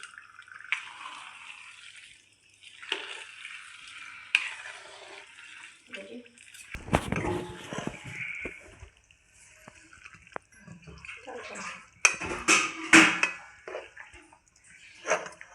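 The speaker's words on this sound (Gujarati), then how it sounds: "હવે આ કાજુ બદામ નાખી દઈએ અંદર. અને મિક્સ કરી લઈએ." Cashews and almonds stirred into gundar pak in a pan: scattered scraping and clinking of a spoon against metal, with soft rattling bursts that grow busier toward the end. A voice talks intermittently.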